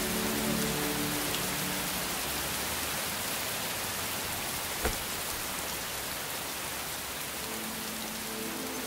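Steady rain pours down over a city at night, a dense continuous hiss of drops on hard surfaces with one brief sharp tap partway through and a faint low murmur underneath.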